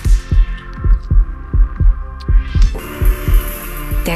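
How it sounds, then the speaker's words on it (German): A loud, deep heartbeat thumping in a steady double-beat rhythm over a low hum, with a rising swell entering near the end. "Dein lauter Herzschlag beim ersten Kuss."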